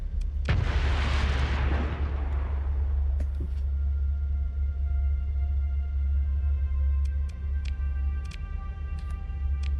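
Artillery fire-support bombardment in the space game Starsector opens with a loud, booming burst that swells and fades over a couple of seconds, followed by a steady low engine rumble and scattered faint blips.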